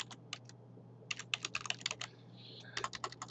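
Typing on a computer keyboard comes in quick irregular bursts of crisp key clicks, some fast runs and short pauses, close and fairly quiet over a low steady hum, with no talking.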